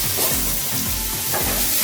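Seafood chow mein noodles are stirred in a hot pan, producing a loud, dense sizzle with rhythmic scraping and tossing sounds close up, no voices.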